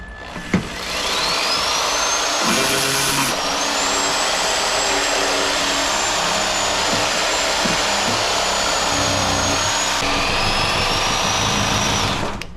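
A power saw with a dull, worn blade struggling through a cut while pulling a motor from a 1975 Dodge Charger street car, a loud sustained whining drone with rising pitch, close by and without talk.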